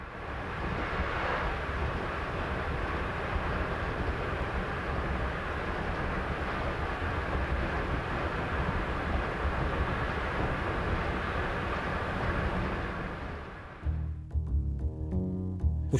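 A Roco model E10 electric locomotive runs along its track with a steady, even rolling hum that continues for most of the stretch before giving way to music at the end.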